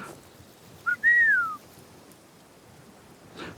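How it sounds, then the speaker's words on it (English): A single human whistle: a short chirp followed by a longer falling note, clear and close in an otherwise quiet room, with a faint rustle afterward. "That was the whistle"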